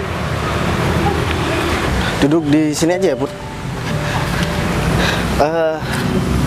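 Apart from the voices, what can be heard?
motorbikes passing by on a noisy street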